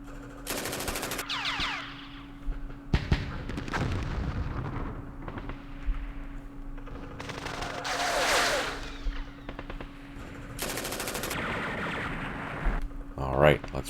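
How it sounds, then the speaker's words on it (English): 60 mm mortar fire in the strategy game Campaign Series Middle East comes as repeated sharp bursts and rumbling blasts, some rapid and rattling, over a steady hum, with a voice talking between the shots. "Mortars. 60 millimeters by the looks of it."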